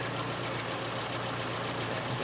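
A small Kent engine on its factory carburetor idles with a steady, even, continuous rumble that stays close and constant throughout, with no voices over it.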